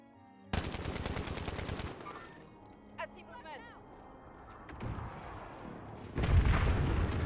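Bursts of automatic gunfire in a Call of Duty: Modern Warfare match, a sustained rattling volley followed by scattered shots and a second loud burst, with players talking over the action.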